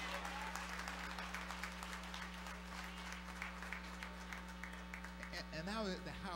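A church congregation claps during an usher anniversary service, a continuous crowd applause over a steady electrical hum, with voices talking through it and a rising-and-falling vocal sound near the end.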